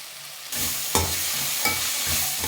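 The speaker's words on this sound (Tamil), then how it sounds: "ஒரு 2 நிமிஷம் போல் அந்த ஆயிலேயே அந்த சுண்டைக்காய் நல்லா வதங்கட்டும்." Turkey berries (sundakkai) sautéing in oil for a Chettinad pachadi, a sizzle that jumps up as they hit the pan, then two or three scraping stirs over a constant close hiss, with no talking.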